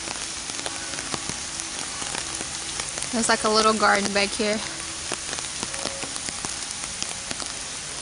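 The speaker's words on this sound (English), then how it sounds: "It's starting to rain harder" Rain falls steadily outdoors in the garden of a palace in Germany, a constant soft patter throughout, while a nearby voice talks briefly in the middle.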